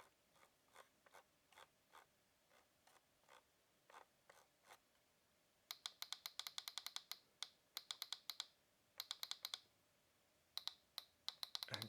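The scroll wheel of a Logitech G703 Lightspeed wireless gaming mouse is turned, giving faint, evenly spaced ratchet ticks that later come in fast, dense runs with short pauses, close and alone.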